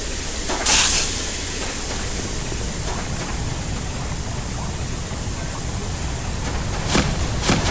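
Steam hissing in the Counter-Strike: Condition Zero training room: a loud, steady broadband hiss runs throughout, with brief sharper bursts near the start and end.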